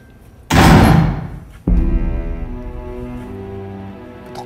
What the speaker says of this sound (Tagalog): Putok ng baril yun.